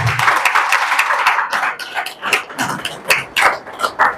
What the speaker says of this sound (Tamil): நல்ல அருமையான ஒரு சிறந்த கைத்தட்டல பண்ணலாம்.